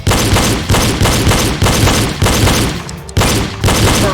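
Pistol shots fired in a reload drill on a range, a steady run of about eight loud, close reports spaced roughly half a second apart, with a brief gap near the three-second mark.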